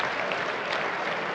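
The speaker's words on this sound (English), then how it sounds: "giving a round of applause to that double" A darts crowd at the 2017 Austrian Darts Open gives steady, dense applause for a hit double, close and continuous for the whole moment.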